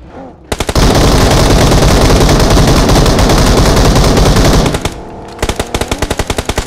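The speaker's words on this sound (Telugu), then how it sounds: "ఫైర్ చేస్తున్నారు అసలు" Loud sustained automatic gunfire from a BGMI mobile battle royale match played on an emulator, a dense continuous burst of several seconds followed by a brief lull and then a rapid string of separate shots.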